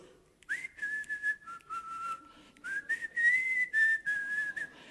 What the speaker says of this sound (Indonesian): Lagi jalan tapi sambil siul-siul